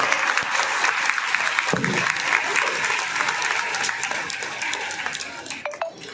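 Audience applause at an August 15 Independence Day ceremony in Gujarat, a sustained burst of many hands clapping that rises at the start and gradually thins and fades toward the end, with no talk over it.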